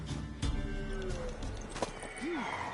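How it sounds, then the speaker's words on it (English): A horse in The Witcher 3: Wild Hunt whinnies in a rising and falling call near the end, after brief hoof clatter and other game sounds, heard close and fairly quiet. "Worthy of the best horse. The mare is yours."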